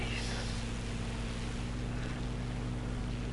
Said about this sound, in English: Thunderbolt was definitely slower than the Mustang, but listen to that Merlin engine.